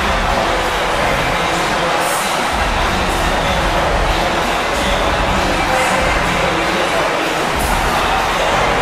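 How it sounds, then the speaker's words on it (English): A dense, loud, continuous roar from the crowd at an indoor wrestling event fills the whole stretch without a break. "You can hear the crowd."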